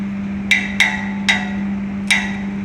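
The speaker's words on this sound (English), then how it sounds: "Now we are firmly tightening all the bolts using a socket." A socket wrench tightens the bolts on an electric fan motor being overhauled on site, giving four sharp metallic clicks at uneven intervals over a constant low electrical hum.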